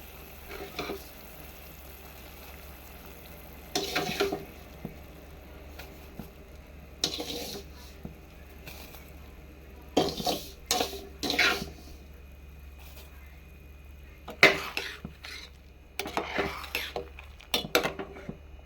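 Metal clinks and scrapes of a utensil stirring semolina into boiling water in a pot, in irregular bursts over a low steady hum.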